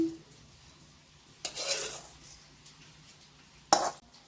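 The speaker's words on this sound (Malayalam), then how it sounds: "ഫ്രൂട്ട് കസ്റ്റാർഡ് നന്നായി മിക്സ് ചെയ്യണം." A spoon scrapes and clatters against a bowl as fruit custard with apple, mango, grapes and cherry is stirred, in two short, sharp bursts over a quiet background.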